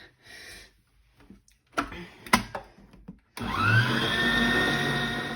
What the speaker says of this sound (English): you'll just mix this on a light speed until it is stiff peaks. Bear in mind this is going to be very loud